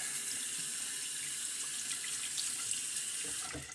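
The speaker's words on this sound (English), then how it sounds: "Let's go ahead and rinse this bowl off." Running tap water pours steadily over a shaving lather bowl as it is rinsed out, a continuous close splashing rush that fades slightly at the end with no talk.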